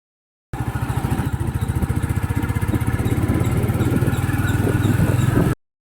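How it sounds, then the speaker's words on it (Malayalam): A new-model Royal Enfield Bullet 350 engine with tappet noise from the cylinder head runs steadily at idle, its even rapid thumping pulses loud and close for about five seconds, with no talk. "ഒരു ടാപ്പറ്റ് നോയ്സ് ഉണ്ട് ഏറ്റവും ഹെഡിൽ നിന്ന്"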